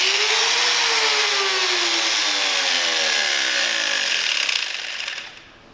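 A 4-inch angle grinder fitted with a 36 grit sanding disc strips bark from a log, a loud steady abrasive whine with falling pitch as it bites, then winding down and fading at the end.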